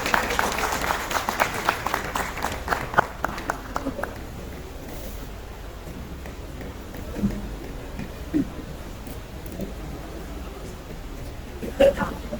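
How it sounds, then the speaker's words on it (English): Audience applause at an honorary event for a professor: many hands clap briskly and loudly for about four seconds, then fade, leaving a quiet room with a few scattered claps and noises. "A round of applause."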